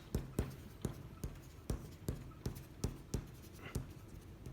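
Quiet, rhythmic scratching strokes of a colored pencil on paper, adding texture to a drawing of an autumn tree, about two per second, close up and alone.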